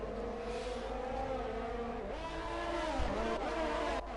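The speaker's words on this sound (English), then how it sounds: "whenever I just hear him go onto the throttle, his tyres are just reaching" F1 car in a video game accelerating hard on the throttle at the Australia circuit, tyres at the traction limit: a sustained high engine whine climbing and shifting pitch, with a faint tyre scrub.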